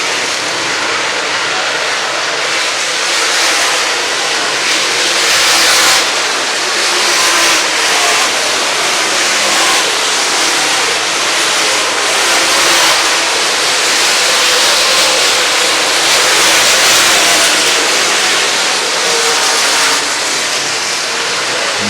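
Late model race cars of the MLRA series roar around the State Fair Speedway dirt track, a loud continuous engine drone with passing surges, the field strung out across the oval.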